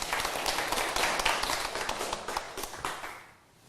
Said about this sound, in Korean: 박수를 안 치세요.